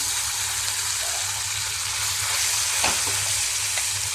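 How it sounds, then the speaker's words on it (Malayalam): Cooked chickpeas sizzle steadily in hot ghee for a Kerala kadala pradhaman. The frying hiss is loud and continuous, with a few brief stirring scrapes and no talking. "ഈ നെയ്യിലേക്ക് വേവിച്ച് വെച്ചിരിക്കുന്ന കടല ഇട്ട് കൊടുക്കാം"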